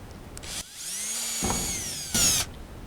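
A power drill whirs in several bursts, the motor pitch rising and falling as it bites into material, with short pauses between runs.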